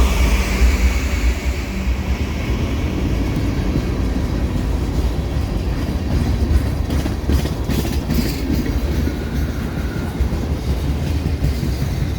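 A CSX freight train rolls past on the rails on the Gulf Coast, a steady, loud rumble of railcars with rhythmic wheel clatter and occasional metallic squeal, close by and continuous with no talking.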